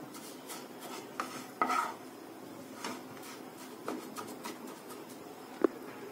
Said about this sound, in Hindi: अब सिवैयों को भून लेना है मीडियम फ्लेम पे।